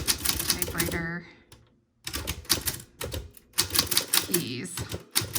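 Keys clack on a manual typewriter from We R Memory Keepers in quick irregular bursts with short pauses between them, and a voice speaks over part of the typing.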